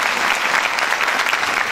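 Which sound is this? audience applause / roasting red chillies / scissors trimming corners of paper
audience applause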